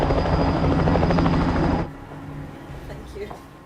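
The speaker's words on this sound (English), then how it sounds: "a helicopter finally dispatched to Mangwalu." A helicopter flies close by with a loud, steady rotor chop that cuts off abruptly partway through, leaving faint background noise.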